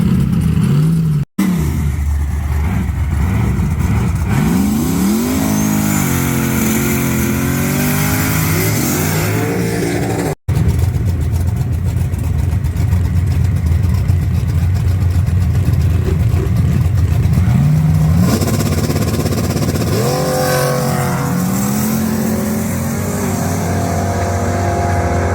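Drag racing car with a blow-through carburetor idling and revving, a loud rough engine rumble with repeated rising revs and two sharp cut-outs, running steadily without talk.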